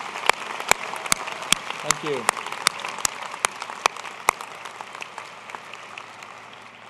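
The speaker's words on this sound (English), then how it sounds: "Let's give them a round of applause as well." A winter commencement audience at the University of Idaho applauds in a broad wash of clapping, with a few sharp, loud claps standing out near the front, while a voice speaks briefly over it.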